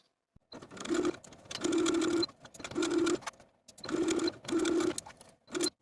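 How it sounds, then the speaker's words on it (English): A sewing machine edge-stitches binding close to the inner fold around the armhole of a ruffle top, running in about six quick bursts separated by short pauses. The motor whirs loud and near. "take it back to your machine and edge stitch all around the binding close to this inner fold all the way around the armhole"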